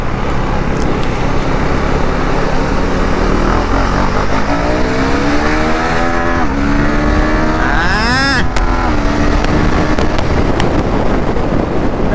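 A Husqvarna Svartpilen 401 motorcycle is ridden with traction control switched off. Its engine pitch climbs through a couple of sharp revving pulls under heavy, constant wind rush.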